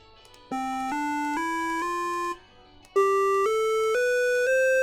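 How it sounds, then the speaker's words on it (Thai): Electronic beeping tones from a micro:bit step upward one by one like a do-re-mi scale, first four notes, a short pause, then four more, clear and steady. "แล้วก็นี้เป็นเสียงโดเร มี ฟาซอนนะครับผม"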